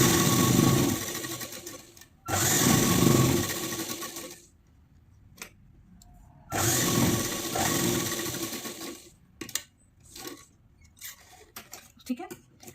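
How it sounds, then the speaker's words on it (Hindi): Sewing machine stitching the seam of a circular umbrella palazzo, running in two long loud bursts with short pauses and then a few brief stop-start runs, close up, with no talking. "तो हमें ऐसे करना है और हल्का से यहाँ से खींच के सिलाई करना है"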